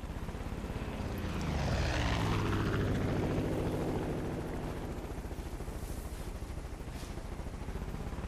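A helicopter in the video game Far Cry 5 passes close by, its rotor thumps and engine drone growing louder, then settling into a steady whirring hum.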